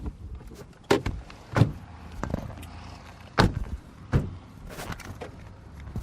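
Car doors thud and clunk as people climb out of a car, several sharp knocks and slams spaced a second or so apart over quiet outdoor background, no talking.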